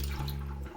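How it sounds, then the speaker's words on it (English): Water is poured out of a small four-cup camping coffee pot at a winter hammock campsite, a brief, close, steady splash of liquid with no voices. "dumping out water there"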